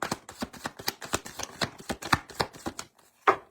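Rapid riffle shuffling of tarot cards, a quick run of crisp snapping bursts in steady rhythm, then a pause and one final snap.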